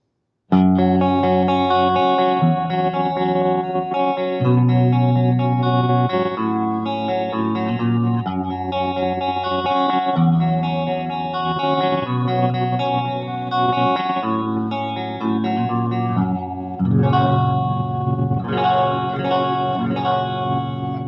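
A Firefly FFJA electric guitar rings out through its middle pickup, strummed chords and picked notes with a chorus-like shimmer and slight grit, played steadily and loud with no talking.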